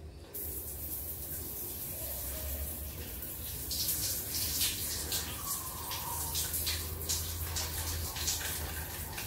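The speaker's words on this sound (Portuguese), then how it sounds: "Vou abrir aqui o chuveiro." A shower runs in a bathroom while hair is rinsed, a steady hissing spray of water that starts abruptly and continues at moderate level with splashy fluctuations as the stream hits hair.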